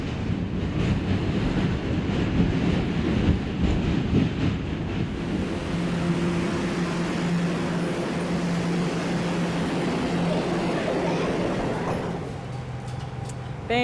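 Elevated New York City subway train passing: a loud, broad roar and clatter that is heavy at first, eases into a steadier rumble with a faint hum, then thins out near the end.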